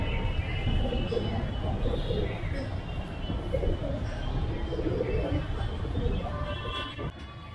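A pair of high-flying pigeons, male and female, coo in soft repeated low calls close by, over a steady background hum.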